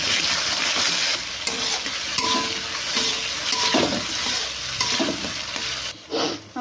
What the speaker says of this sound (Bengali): আর মশলাটা কষানো হয়ে গেছে